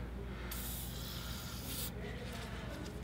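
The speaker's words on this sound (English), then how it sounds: "We're gonna spray this with some penetrating oil again to make sure it's nice and saturated" Penetrating oil sprayed from an aerosol can onto the stuck rear wheel bearing bolts of a Subaru Legacy: one loud, steady hiss lasting about a second and a half, close by, over a constant low hum of background noise.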